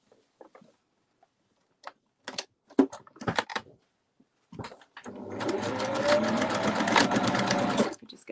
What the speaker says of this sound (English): Then using the sewing machine, you just want to secure those ends together.